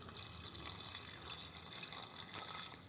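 Water poured into a pressure cooker holding soaked kidney beans for rajma curry, making a quiet, steady trickle and fill sound with no one talking.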